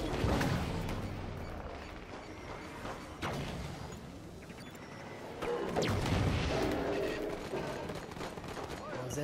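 Gunfire in the shooter game Halo 5: Guardians comes as several sharp cracks and booms spread through a busy battle mix, with someone talking over it.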